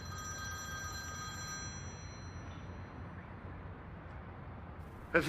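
A telephone rings with a bright, steady electronic tone that stops partway, leaving a quiet noisy background and a brief clatter at the end.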